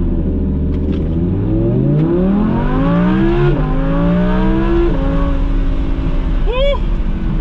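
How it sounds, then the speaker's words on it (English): An Audi R8 V10 Plus launches hard from a stop, its engine revving up through rising sweeps with quick gear-change dips, loud and close from inside the car, ending in a sharp upward rev burst. "Woo! I didn't get launch control to work, but dang, this thing is fast."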